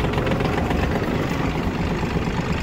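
A Yanmar RS-24 Japanese mini tractor engine idles with a steady, close, low diesel rumble and a slight vibrating chug. The sound stays even throughout and no one speaks.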